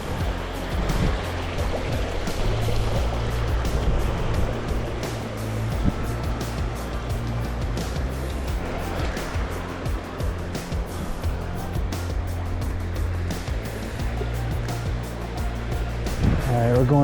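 The river at Poco do Gaviao in Chapada Diamantina flows strongly, a dense continuous rushing of water close by, with voices talking over it throughout.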